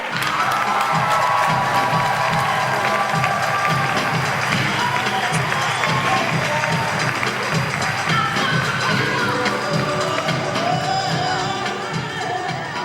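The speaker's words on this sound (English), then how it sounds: "let's show Oliver our energy in the present by giving him a rousing applause" Dense, continuous crowd noise with cheering, whoops and clapping from a large audience at an Ignite Lincoln talk event, loud and sustained throughout.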